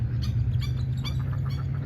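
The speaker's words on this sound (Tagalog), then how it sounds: "Nag-uusap ata yung mga ducks." At El Cedazo Park in Mexico, ducks give several short squawking calls spaced through the moment, faint and a little distant over a steady low outdoor rumble.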